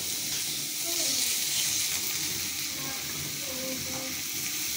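Green chilies and onion fry in oil in a kadai, a steady close sizzle with faint spattering and a low murmur of background sound.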